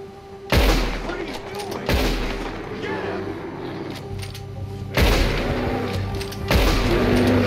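Gunfire at a bear in the video game Red Dead Redemption 2, four heavy booming shots spaced a second or more apart, each trailing into rumbling echo, with game sounds and voices underneath.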